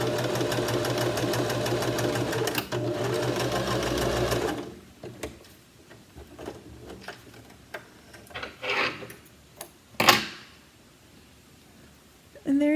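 Sewing machine stitching knit fabric, a fast steady mechanical chatter for several seconds that stops, followed by quiet handling clicks and taps as the fabric is turned, then a brief restart.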